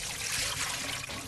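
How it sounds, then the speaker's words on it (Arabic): Water draining from a bowl into a kitchen sink while preparing shrimp shepherd's pie, a steady close trickle and splash running continuously without talk. "هتصفوا الميه"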